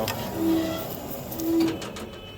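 The head of an Amada H650HD band saw lifting after a steel cut, with two brief mechanical whines over a low steady machine hum in a workshop.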